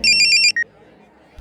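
A borrowed mobile phone plays a bright electronic ringtone in rapid repeated beeps, loud and close, which then stops abruptly and leaves near silence.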